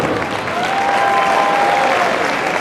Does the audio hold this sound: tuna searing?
no